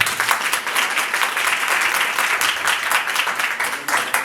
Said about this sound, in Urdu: بہن کے لیے ذرا تالیاں ہو جائیں۔